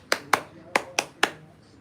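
Five sharp hand claps in an uneven rhythm, part of a sakinah clapping chant, sound close and fairly loud in a room, with faint background murmur between the claps.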